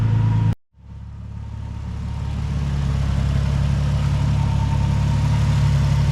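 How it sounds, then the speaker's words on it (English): A car engine idles steadily while warming up after coolant work, a low, even rumble that settles in after a brief cut near the start and carries on alone without talk. "We're gonna let the car warm up"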